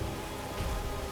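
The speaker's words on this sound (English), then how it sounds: "we actually have rain sound here" Steady rain in the Drangleic Castle boss fight of Dark Souls 2, a constant broadband hiss of falling drops with a low rumble underneath, even and unbroken throughout.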